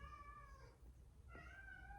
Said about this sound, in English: It's my cat yelling at me.